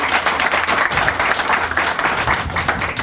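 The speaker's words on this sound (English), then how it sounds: "give a round of applause" A crowd applauds at an outdoor ribbon-cutting news conference for a living and learning center. The clapping is dense, steady and loud for the whole stretch, with no voices over it.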